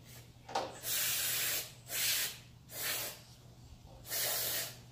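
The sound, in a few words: spraying carburetor with aerosol cleaner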